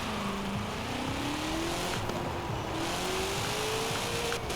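A 1966 Ford GT40 Mk II Le Mans race car in Forza Horizon 4 revs up steadily through first gear, its engine tone climbing continuously under constant loud road and wind noise.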